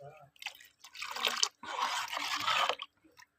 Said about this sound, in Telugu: ఇప్పుడు ఇందులో 1 గ్లాస్ వాటర్ వేసుకోండి.